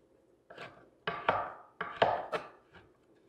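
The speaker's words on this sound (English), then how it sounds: "just give this a fine chop" A knife chops fresh herbs on a cutting board in a handful of close, dull thunks arriving in uneven bursts.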